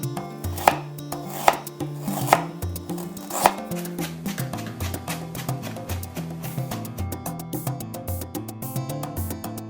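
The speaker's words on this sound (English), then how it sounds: "Begin by chopping the ginger and garlic." Ginger and garlic are chopped with a knife on a cutting board, several loud separate strikes at first, then a quick steady run of rapid cuts, close and clear, with music in the background.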